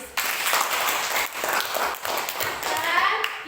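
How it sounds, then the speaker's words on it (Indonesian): A classroom of children claps for a student group, giving a steady burst of close, crisp applause that lasts a few seconds, with faint voices mixed in. "tepuk tangan untuk kelompok religius"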